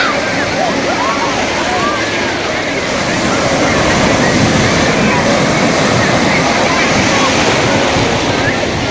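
Waves break steadily on Perupalem Beach in West Godavari, a continuous loud wash of surf mixed with wind noise across the whole stretch, with no pause between sets.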